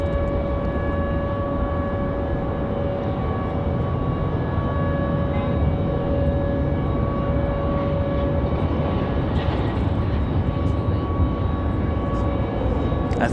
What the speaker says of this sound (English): Delta 737.